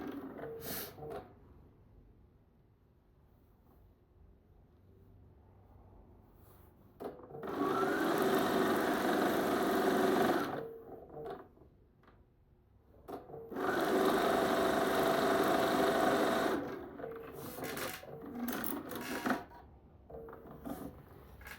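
Sewing machine stitching a scant quarter-inch quilt seam, two distinct runs of steady whirring motor and needle, each a few seconds long, separated by quiet handling noises.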